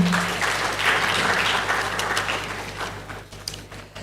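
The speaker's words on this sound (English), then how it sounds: "Please, a round of applause for him." Audience applause at the national launch of a Human Development Report in Nigeria, a broad wash of clapping that swells early and gradually thins out over a low hum.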